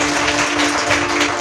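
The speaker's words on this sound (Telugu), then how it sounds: "గట్టిగా చప్పట్లు కొడదాం" A church congregation claps hard and steadily in a dense, loud wash of applause during a worship service.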